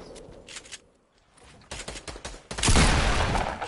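Rapid bursts of gunfire in Fortnite, scattered cracks early on, then a dense loud volley of shots in the second half, close and sustained.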